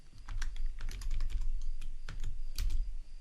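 Quick, close clicking of keys on a computer keyboard as code is typed, an uneven rapid patter of individual keystrokes with no talking.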